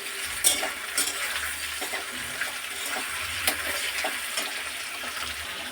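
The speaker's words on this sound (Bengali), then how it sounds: "এবার পেঁয়াজ পাতাগুলো এতে দিয়ে দেবো।" Chicken stir-frying in a pan with spring onions and soy sauce gives a steady, close sizzle, broken by scattered scrapes and clicks from stirring.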